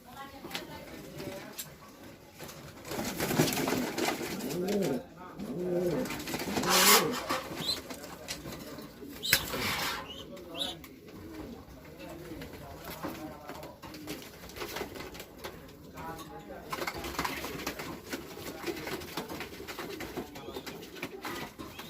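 Racing pigeons coo in a loft, with repeated throaty calls mixed into a busy, fairly close scene while someone talks over them much of the time.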